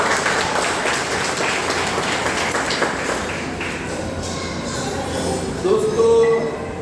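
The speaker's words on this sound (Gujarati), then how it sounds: "આપણે સૌ તેમનું તાળીઓથી સ્વાગત કરીએ." An audience applauding to welcome a visiting family at a gathering, a sustained wash of clapping that gradually thins, with a brief tonal ping and some background voices near the end.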